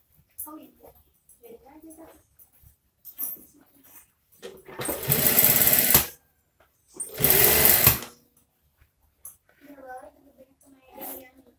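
A sewing machine stitches a front button placket on a garment in two loud bursts of rapid mechanical whirring, each lasting a second or two. Someone talks quietly before and after the bursts.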